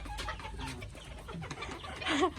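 Bantam chickens cluck and squabble in a close, busy series of short calls, with a louder burst of higher, rising squawks near the end over constant farmyard background noise.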